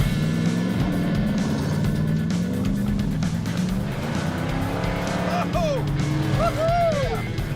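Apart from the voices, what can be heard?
1968 Plymouth Road Runner with 383 engine, 4-speed, driving off-road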